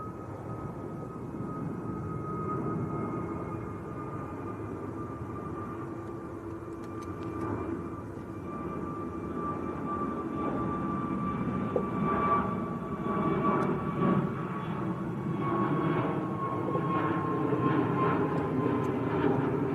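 An airliner's engines at Manchester Airport during a go-around throttle nearly to full power and then back off, giving a steady, fairly distant roar with a high whine that swells slightly before easing.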